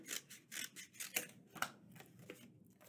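Scissors snip through a paper plate to remove its inner circle, a run of close, crisp cuts in quick irregular rhythm with no voices.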